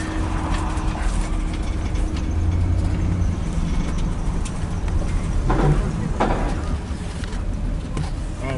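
A car out on a test ride to check for transmission slipping gives a steady loud road and engine rumble from inside the cabin, with brief higher squeaks partway through.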